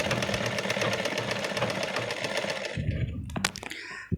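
Sewing machine stitching a hem along a sari, a steady close run of rapid mechanical clatter that stops near the end, leaving a few brief knocks and handling clicks.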